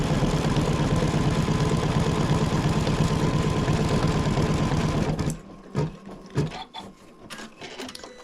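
Embroidery sewing machine running steadily while top stitching a dog poop bag in the hoop, a loud continuous rapid whirring rattle that stops abruptly, followed by scattered handling clicks and knocks.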